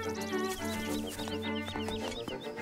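A chicken in the Link's Awakening video game clucks in a quick, busy run of high squawks, close and clear over steady background game music.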